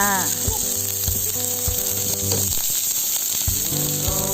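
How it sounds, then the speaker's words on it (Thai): Pork belly fries in a hot pan with a loud, steady sizzle, close up, while occasional scraping and clinking of stirring and cookware break through the constant crackle under light background music. "นำหมูมากีกระทะนะคะ เพื่อให้หมูสุกแล้วก็มีความหอม"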